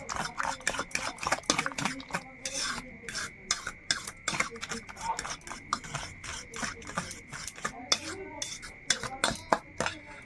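Eggs are beaten by hand in a bowl for a prawn omelette, giving rapid, steady clinks and taps of utensil against the bowl that continue close and clear with no talking.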